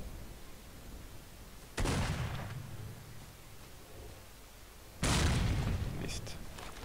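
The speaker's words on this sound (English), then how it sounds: "Oh, grenade." Grenade blasts in the STALKER video game: two loud, broadband booms a few seconds apart, each with a sharp onset and a rumbling decay, over a low ambient background.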